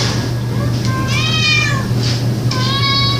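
A cat meows repeatedly in a rescue shelter kennel, three drawn-out, tonal calls in quick succession, close and loud over a steady low mechanical hum.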